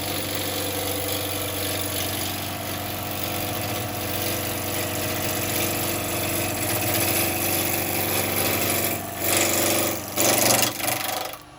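A wood lathe turns very wet wood while a 1/2-inch spindle gouge cuts, giving a steady motor hum with a rough scraping texture and a few louder, choppy bursts near the end.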